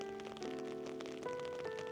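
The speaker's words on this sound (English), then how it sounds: "Pouring rain." Pouring rain falls steadily on a New Year's Eve night walk through a town at about 5 Celsius, a constant wash of patter with faint tonal hum and music-like tones underneath, with no voices.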